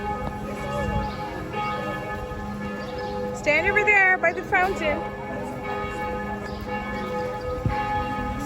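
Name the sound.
church bells ringing in Zurich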